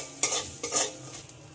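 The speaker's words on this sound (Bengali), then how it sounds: "এবার এতে দিয়ে দেব স্বাদ মতো লবণ, পরিমাণ মতো হলুদ গুঁড়ো, আবার একটু হালকাভাবে ভেজে নিতে হবে।" Dal lightly frying with salt and turmeric in a pan, two distinct scraping stirs over a soft steady sizzle, close and clear, with no speech.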